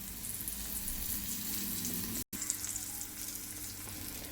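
Mandeli fish coated in flour sizzles steadily in hot oil, a dense continuous crackle that holds throughout apart from one brief dropout midway.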